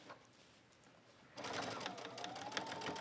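A sewing machine stitches a rolled hem along the edge of a denim shirt dress, kicking in after a quiet moment with a steady, fast, close-up mechanical whir.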